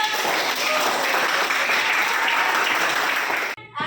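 Classroom applause during a maths lesson on solving equations: a dense wash of clapping from many students, steady and loud, cutting off abruptly just before the end.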